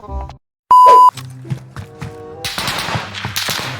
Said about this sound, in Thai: เสียงปืนข้างหน้า